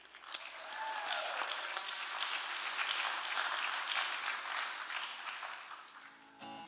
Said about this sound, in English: let's give a big round of applause to Lou Beaudry.